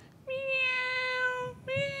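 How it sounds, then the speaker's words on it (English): A cat meows twice, a long drawn-out, clear tonal meow followed by the start of another, fairly close against a faint background hum. "So if you hear that sound, meow, meow, that's a cat."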